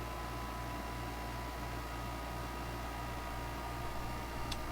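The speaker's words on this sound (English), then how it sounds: "I've got the wall air conditioner on because I'm in my workshop." A wall air conditioner runs in a workshop, making a steady, even broadband hum and hiss with a low tonal drone throughout and no speech.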